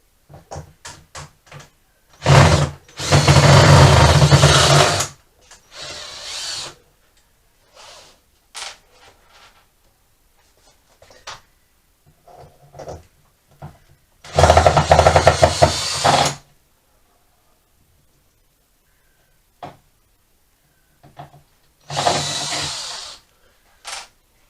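Cordless power drill removing the box from a Honda CBR400 motorcycle track bike, three loud whirring bursts of a few seconds each separated by quiet gaps with small clicks and knocks of handling parts.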